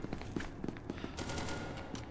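Rapid bursts of video game gunfire from a shooter, quick automatic shots in a short, fairly quiet volley with faint footstep-like thumps, no speech.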